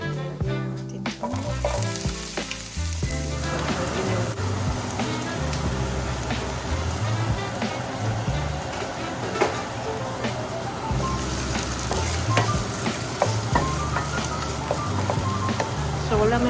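Ground turkey frying in olive oil in a pan, giving a steady loud sizzle throughout with occasional crackles and a few clinks, while music plays underneath.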